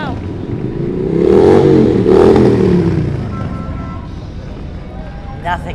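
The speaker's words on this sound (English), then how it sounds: "They're loud, they must be Harleys." Loud Harley-Davidson motorcycles ride by in a street parade at a cherry festival, a swelling engine rumble that peaks mid-pass then fades, with people talking and cheering nearby.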